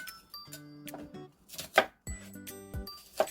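A knife chops onion into small pieces on a cutting board while making cup pizza: a few sharp, close taps sound at irregular intervals over light background music.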